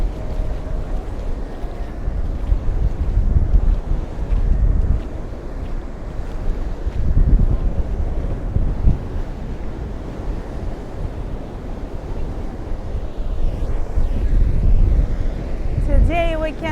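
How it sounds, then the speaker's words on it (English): Large ocean waves breaking on St. Pete Beach, Florida, a constant heavy roar of surf with swelling crashes, mixed with strong wind buffeting the microphone. "The waves are huge, and that's why the beach does not look too clean."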